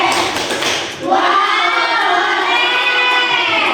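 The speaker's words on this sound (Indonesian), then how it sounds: "Kita beri tepuk wow dulu untuk kelompok 3, 4, dan 5." Primary school pupils in a science class perform a rhythmic clapping chant, starting with a burst of claps and chatter, then shifting into a loud, sustained sung shout from many children together.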